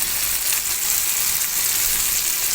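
A ground paste of tomato, fennel, turmeric and chilli powder fries in a pan for a tamarind kuzhambu with green turkey berries, giving a steady, close, bright sizzle that stays even throughout with no talk.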